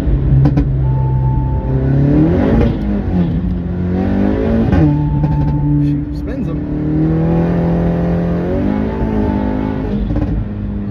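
A car accelerating hard in second gear on a quarter-mile run, the engine note climbing steadily through repeated revving sweeps, loud and close, with a person talking over it.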